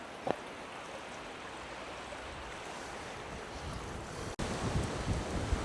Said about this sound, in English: Lovely little stream. Straight under the bridge.